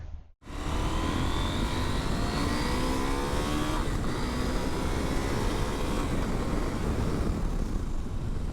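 A KTM 890 Adventure motorcycle rides a test track, its engine a loud, continuous broadband roar with rising and falling pitch sweeps as it accelerates, starting abruptly after a brief silence.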